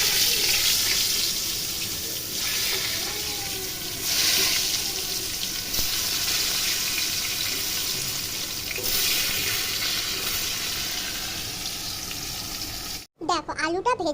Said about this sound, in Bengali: এবার চলো এতে আলুটা দিয়ে দিয়ে আলুটা ভেজে নিই।